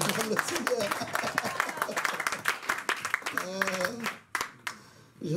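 A church congregation applauding, with rapid dense clapping from many hands filling the space while voices talk and call out over it, tapering off toward the end.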